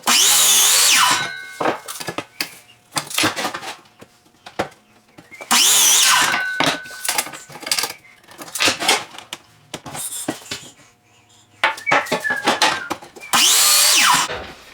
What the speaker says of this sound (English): let's get to cutting and I'll get right back to y'all after we're done with the table miter saw